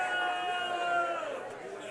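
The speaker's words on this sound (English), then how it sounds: "as you hear the crowd" Crowd chatter at the Carolina Clash golf tournament on championship Sunday, a steady murmur of many voices in the background under a commentator's voice.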